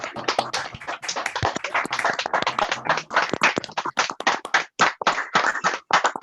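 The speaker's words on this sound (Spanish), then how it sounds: "abrimos nuestro micrófono y le damos un fuerte aplauso" An audience at a talk on depression during COVID gives a sustained round of applause, dense, fairly close clapping lasting about six seconds with no voices over it.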